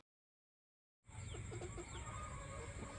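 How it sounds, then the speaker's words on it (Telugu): Rasangi rooster at a breeding farm; after a second of silence, outdoor farmyard ambience rises with scattered nearby clucks and fowl calls over a steady background. "మీకు ఎదురుగా కనపడుతున్న మరి రసంగి కోడిపుంజు హనుమాన్ ఫార్మ్స్ అశోక్ అన్న మరి నాకు బ్రీడి"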